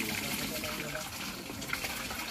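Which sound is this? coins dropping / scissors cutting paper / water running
water running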